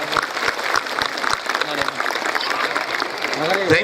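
Applause for a girls' school and its students at an annual day event, a dense broadband patter of many hands clapping steadily throughout, with a voice speaking over it.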